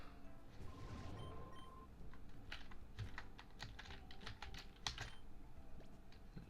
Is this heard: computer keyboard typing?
yes